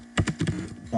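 Quick keystrokes on a computer keyboard, a short burst of close, crisp clicks followed by a brief pause and another tap.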